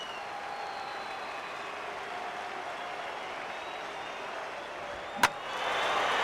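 A baseball stadium crowd murmurs steadily before a sharp crack rings out, followed by a rising swell of crowd noise as a deep foul ball carries toward the right field line.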